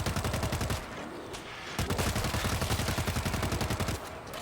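Sustained automatic gunfire in the zombie shooter World War Z rattles off in rapid, loud bursts close by, with a brief lull before the firing resumes.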